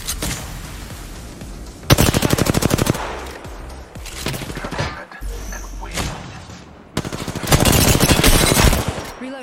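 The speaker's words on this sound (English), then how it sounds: "I'm taking shots." Automatic weapon fire in Apex Legends rattles in rapid, loud bursts, with several separate volleys broken by short pauses and a heavy thump, and one voice speaks briefly between the shots.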